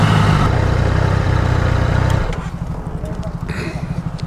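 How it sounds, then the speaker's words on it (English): A Triumph Daytona 660 motorcycle engine runs with a strong low throb, loud at first and then easing to a softer pulsing idle, while someone talks over it throughout. "the bike that I'm currently riding is the one that everyone wants to ride because it's the only full power bike"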